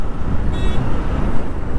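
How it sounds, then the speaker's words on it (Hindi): Steady road traffic rumble from a long jam near a metro line, a dense low engine drone close by with a brief horn toot partway through, no talking. "कितना लंबा जाम है।"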